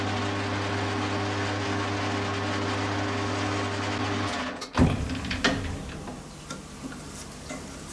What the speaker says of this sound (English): And then we're going to flip this over and machine the front off. And we'll do that on a mandrel.